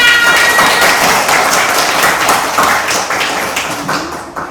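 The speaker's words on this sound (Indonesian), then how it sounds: "Ya, tepuk tangan untuk kalian semua." Pupils in a classroom clap for everyone, a dense, loud round of many small hands patting rapidly that continues steadily and eases slightly toward the end.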